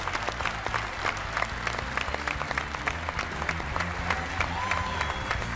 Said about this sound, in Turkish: Alkışlarla uğurluyoruz